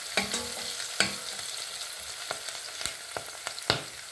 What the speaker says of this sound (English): You can see my onions and my chilies is nearly fried.